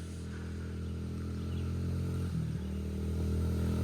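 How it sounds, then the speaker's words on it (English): A small Honda 50 motorbike passing at an off-grid family property: a buzzing single-cylinder engine drone, close and steady, with a brief dip and recovery as the bike goes by. "Gotta love a Honda 50."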